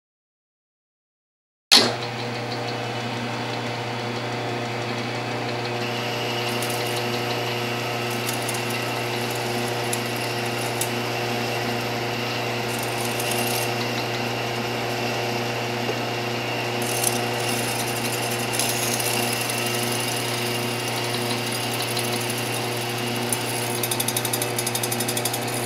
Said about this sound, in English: We get the boring bar set up, and we're just going to go ahead and take our first cut